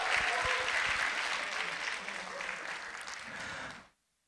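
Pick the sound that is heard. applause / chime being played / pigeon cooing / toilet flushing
applause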